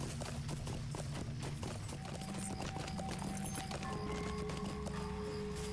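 Mount galloping in Lord of the Rings Online, a steady run of hoof clip-clops carrying on for several seconds over a dense game soundscape with layered tones and ambient music.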